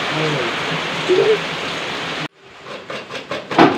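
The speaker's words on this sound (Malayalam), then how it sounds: "നല്ല മഴ" Dense, steady rain pouring down loudly for about two seconds, then cutting off abruptly into quieter handling noises.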